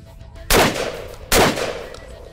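Two loud shotgun blasts about a second apart, each firing a Polywad spreader load, sharp and close with a short decaying tail after each.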